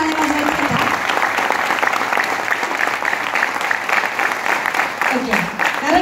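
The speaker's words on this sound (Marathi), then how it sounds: "सगळ्यांनी यांच्यासाठी एकदा जोरदार टाळ्या वाजवायच्या" Audience at a distributor gathering clapping loudly and continuously for several seconds, a dense, sustained burst of applause with a voice briefly heard at the start and end.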